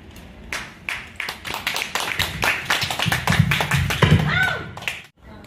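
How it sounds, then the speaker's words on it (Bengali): Scattered audience applause at a poetry recital, a ragged burst of clapping that swells and then stops abruptly, with a brief voice near the end. "হাততালি দিন।"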